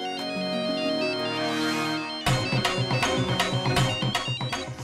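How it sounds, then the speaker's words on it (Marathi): A phone ringtone plays loud and close, a melodic synthesized tune that switches partway through into a brighter, rhythmic pulsing pattern with no talking over it. "फोन बराच वेळचा वाजत होता"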